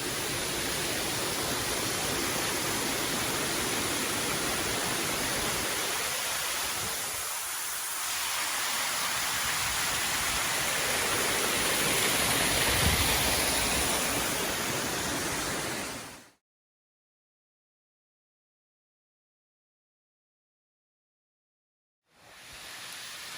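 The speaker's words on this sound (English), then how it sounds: "But this is definitely a legit falls, really nice." A small waterfall in Lamington rainforest roars as a steady, loud broadband rush of falling water for about sixteen seconds, then cuts to silence before the rush briefly returns.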